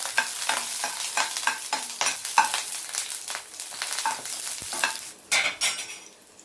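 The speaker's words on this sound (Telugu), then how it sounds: "ఆయిల్ వేడైంది. ఇందులో తరిగి పెట్టుకున్న వెల్లుల్లి ముక్కలను వేస్తున్నా. ఇవి కొంచెం ఏగే వరకు కలపాలి." Chopped garlic frying in hot oil and ghee for sweet corn soup, a loud continuous sizzle broken by rhythmic scraping strokes of a spoon stirring the pan, up close, with no voices.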